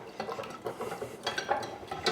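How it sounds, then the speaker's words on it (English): An egg whisked in a medium saucepan: quick, light metallic clicks and scrapes in short bursts, close and fairly soft. "Give it a whisk."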